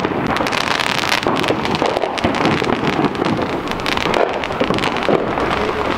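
Illegal backyard fireworks burst nearby in a loud, continuous barrage of sharp crackles and pops, dense overlapping bangs with no pauses and no talking.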